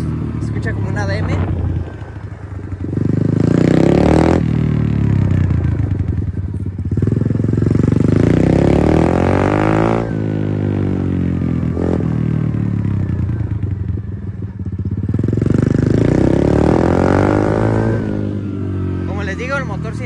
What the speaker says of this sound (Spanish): El sonido de la moto, como les digo, se escucha como una DM.